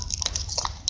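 Slime is squished and played with close up, making soft wet clicks and small squelching pops over a low background hum. The sounds are quiet and come in quick, irregular bursts.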